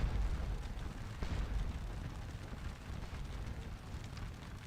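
Napoleonic regiments trade volleys in the Waterloo strategy game Scourge of War, a continuous distant rumble of musketry and booming artillery rolling on without pause.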